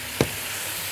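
Grated tomato and parsley are stirred in a hot pan, giving one brief, sharp sizzle burst followed by a faint, steady frying hiss.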